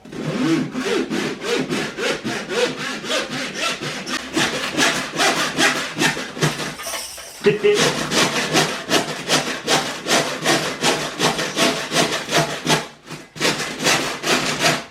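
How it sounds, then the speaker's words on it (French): Steady back-and-forth strokes of a hand saw cutting through wood, loud and close, with a brief pause midway. "Et je vais scier ça"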